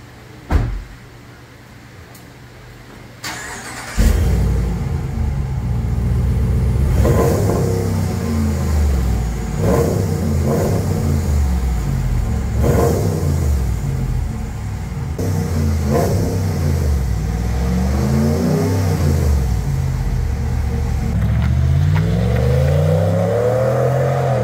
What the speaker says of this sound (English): No raspy, no clapping, very deep, aggressive, clean exhaust note.